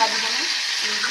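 Shrimp seasoned with salt and turmeric frying lightly in hot oil, giving a brief, steady close-up sizzle.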